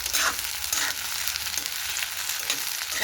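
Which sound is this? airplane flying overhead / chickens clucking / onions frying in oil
onions frying in oil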